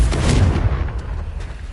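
A Confringo spell blast in the video game Hogwarts Legacy, one loud booming burst at the start that rumbles and fades over about a second, followed by faint softer thuds.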